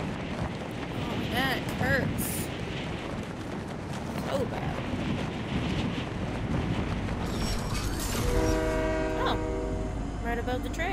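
A train rolls past in the Fortnite video game, a steady rumbling rush with a horn-like tonal blast near the end, mixed with game sounds and occasional talk.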